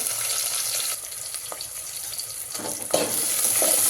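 Chopped onion and tomato sauté in a hot pan with a continuous close hiss of frying, broken by a few scraping stirs and a brief clatter in the later seconds.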